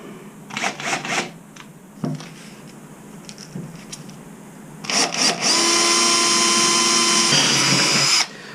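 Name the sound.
drilling holes with power drill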